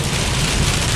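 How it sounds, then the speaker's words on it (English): Heavy rain pours steadily during Tropical Storm Ernesto's Florida landfall, a dense, loud, continuous roar of water with a low rumble underneath throughout. "There's some heavy rain"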